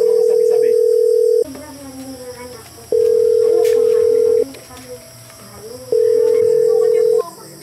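A phone call is dialed and rings out, a steady tone repeating three times in long beeps separated by short gaps, loud and close, with a faint background hum between rings and no talk.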